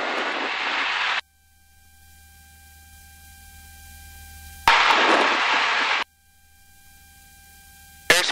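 A small airplane's engine at full throttle for takeoff roars loud and broadband in two bursts, each cut off sharply into near-quiet gaps filled only by faint steady tones.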